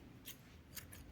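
Scissors snip through mustard-colored crochet yarn, three quick crisp cuts close by in a quiet room, the first alone and the last two in fast succession.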